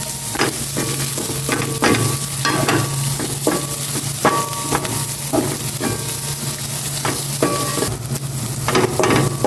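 Bitter gourd (ampalaya) and garlic sizzle and pop in a hot pan, loud and close, with repeated scraping and clinking stirring strokes through a steady frying hiss.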